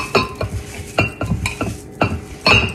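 Lean ground beef being mixed with a spicy hamburger rub makes soft squelching, thumping strokes in a bowl, about one every half second, close and clear, with no talking.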